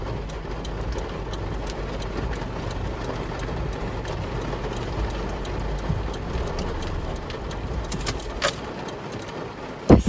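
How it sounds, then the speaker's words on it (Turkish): Heavy rain drums on a car towing a caravan along a winding road between Gazipaşa and Anamur, a dense steady roar inside the vehicle with engine rumble beneath it and a sharp knock at the very end. "Böyle bu kadar yağmur."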